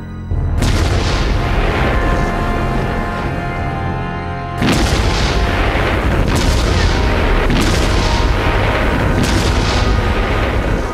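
German K5 railway gun firing heavy shells in wartime, a series of deep booms: a long rumbling blast followed by sharper reports at regular intervals, loud and reverberant over continuous low rumble.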